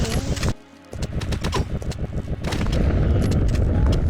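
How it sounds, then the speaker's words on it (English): The Flammenwerfer flamethrower fires in the 1999 World War II shooter Mortyr 2093-1944, lobbing fire in rapid bursts: a loud, dense crackling roar that briefly drops out, then returns and builds into a sustained rushing blast. "It kinda lobs fire sprays a few at a time."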